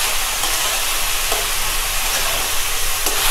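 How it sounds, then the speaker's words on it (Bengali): A spatula stirs chopped bottle gourd around a hot frying pan, with a steady loud sizzle and hiss running throughout and faint scraping strokes heard beneath it. "নেড়ে খুন্তি দিয়ে সমস্ত লাউটা নাড়া দেওয়ার পরে আমি ঢেকে দিলাম।"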